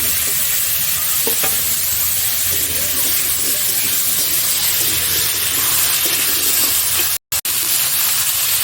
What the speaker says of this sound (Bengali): তো এখন আমি তেলের মধ্যে ফুলকপি, আলু আর শালগম ভেজে নেব।